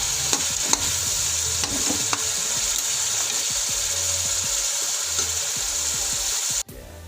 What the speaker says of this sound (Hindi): अब हम चिकन को मज़ीद अच्छी तरह से भूनेंगे।